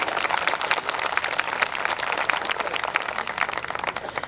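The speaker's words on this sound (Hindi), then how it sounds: "एक बार जोरदार होकर सम्मान में आप ताली बजाओ।" Loud, close, dense clapping from the audience at a Hindi comedy poetry gathering, honoring a poet, a vigorous burst of many hands held steady throughout.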